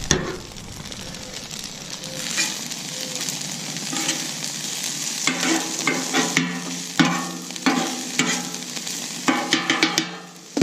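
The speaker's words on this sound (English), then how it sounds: "Turn our rice, looking good. If you haven't had fried rice on the griddle, you don't know what you're missing." Fried rice stirred and turned on a Camp Chef 600 flat top griddle gives a steady close sizzle, with scraping spatula strokes growing busier and louder in the second half.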